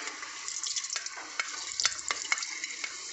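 Cinnamon, cloves and cardamom crackle in hot sunflower oil inside a pressure cooker for chicken mandhi, with quiet, close sizzling broken by irregular sharp pops.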